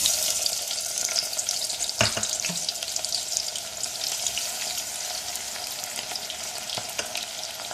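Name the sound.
onion sautéing in oil for beef haleem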